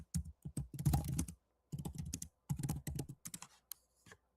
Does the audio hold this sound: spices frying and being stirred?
no